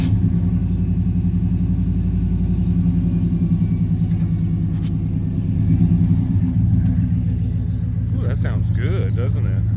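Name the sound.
2005 Ford Escape 3.0L engine running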